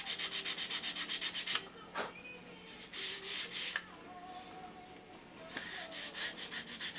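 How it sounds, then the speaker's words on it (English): A handheld sanding block rubbed along the edges of a wooden elevator, close and fairly loud, in quick rhythmic back-and-forth strokes with short pauses between bursts. "Take a little sanding block, even off the edges, and get a center line on everything."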